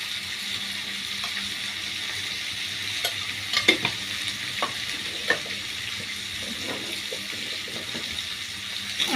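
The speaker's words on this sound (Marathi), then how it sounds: "चांगले लाल होईपर्यंत भाजून घ्यायचे. कच्चे ठेवायचे नाही, चांगले भाजून घ्यायचे." Spiced jackfruit peel and flour stirred and roasted in a pan with salt and turmeric, giving a steady low sizzle with scattered scraping taps of the spoon, close and continuous, with no talk.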